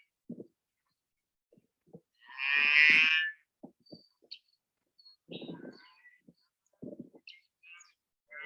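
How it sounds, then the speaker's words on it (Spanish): Cows with calves at foot mooing in a pasture: one long, loud moo in the middle, surrounded by short lowing calls, thumps and scattered bird chirps. "150 vacas paridas con ternero al pie, entrando en pasturas en su punto óptimo de crecimiento."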